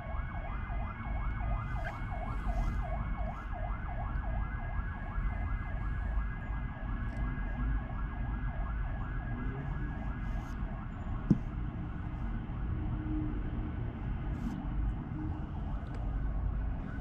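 An ambulance siren wails, cycling steadily up and down over a constant hum of congested traffic in Thailand, sounding a short distance away and continuing throughout.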